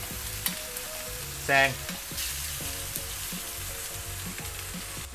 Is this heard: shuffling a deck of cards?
no